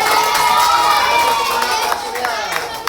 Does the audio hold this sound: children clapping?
yes